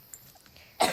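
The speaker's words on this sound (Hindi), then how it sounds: "मेरी खांसी ठीक नहीं हो रही" A woman's single short cough bursts out at the end of a quiet moment, close and fairly loud.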